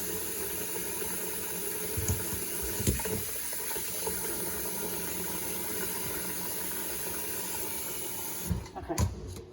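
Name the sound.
water filling a pot for boiling wild greens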